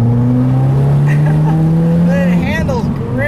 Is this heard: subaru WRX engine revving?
yes